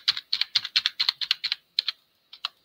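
Keys on a computer keyboard clack in quick close bursts, a run of crisp taps followed by a few slower strokes with pauses, heard up close with no speech.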